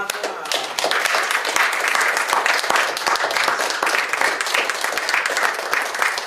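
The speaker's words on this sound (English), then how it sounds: "give everyone a final round of applause" A crowd applauding steadily, dense overlapping claps sustained throughout at a fairly loud, even level.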